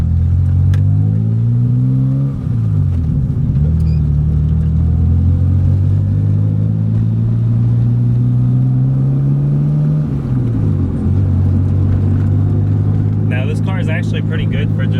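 Turbocharged BMW E30 engine heard from inside while driving, a loud, steady drone that rises and falls through gear changes, with a person talking briefly near the end.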